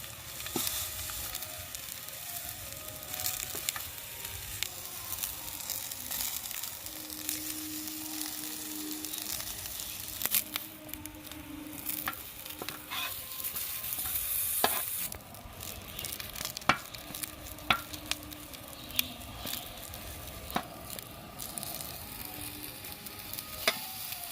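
Eggplant pieces frying in desi ghee on a hot tawa give a soft, continuous sizzle with scattered crackles and occasional stirring scrapes, moderately close and steady throughout.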